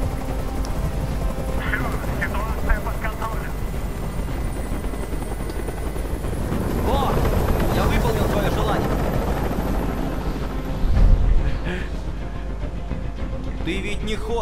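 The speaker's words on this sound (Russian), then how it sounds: "Как же меня бесит этот звук! Прикажи им, чтобы вертолет убрался!" A helicopter's rotor drones steadily throughout in the video game Detroit: Become Human, swelling louder midway, with a brief thump and faint background clatter.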